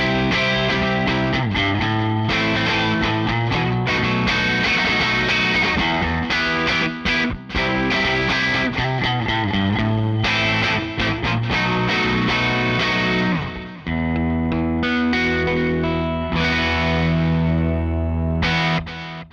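Electric guitar through the clean channel of a Blackstar Series One 104 6L6 amp, pushed hard enough that the clean tone thickens and breaks up, playing busy chord riffs and sustained notes loudly with no talk.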